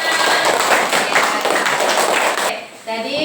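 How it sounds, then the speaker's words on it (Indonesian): Classroom applause from a group of fourth-grade students, a dense, steady patter of many hands clapping up close that cuts off abruptly, followed by a few scattered claps. "Yuk berikan aplaus untuk semuanya."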